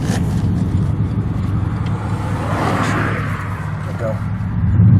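A 2006 Chevrolet Impala SS with a 5.3-litre V8 and front-wheel drive rumbles at a steady low pitch as it pulls away, its engine note swelling louder toward the end.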